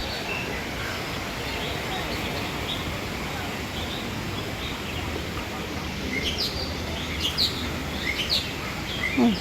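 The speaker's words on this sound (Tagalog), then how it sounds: "dito may naghuhuni" Birds chirping in Hong Kong Park, short high tweets and calls scattered over a steady outdoor background hum, growing busier toward the end, fairly faint against the ambient noise.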